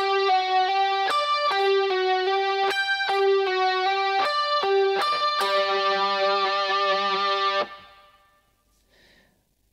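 Distorted electric guitar lick in the style of a live 1988 outro, a run of sharp picked notes with bright harmonics, ending on a sustained held note that cuts off and leaves near silence.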